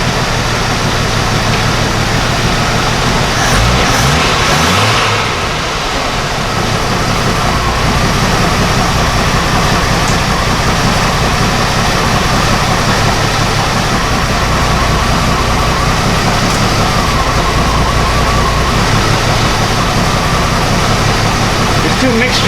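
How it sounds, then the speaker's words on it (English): A Jeep Wrangler engine idles with a loud, steady low rumble that runs continuously from start to finish, and someone talks over it. "Try to set the idle about 700, 750."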